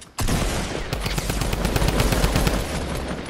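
Rapid automatic rifle fire in a video game, a dense continuous burst of shots starting abruptly and hammering on, loud and close with no talking.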